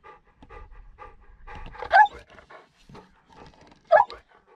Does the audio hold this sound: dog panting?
yes